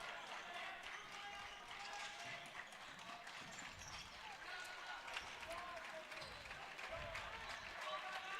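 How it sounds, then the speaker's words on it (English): A crowd claps and cheers continuously in a loud high school gym during a boys basketball game between Nokomis Regional and Camden, with dense steady applause and faint court noise underneath. "Everyone clapping, everyone hyped up for their teams"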